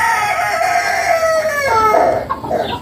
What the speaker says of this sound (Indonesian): tuh ayam juga kongkorongok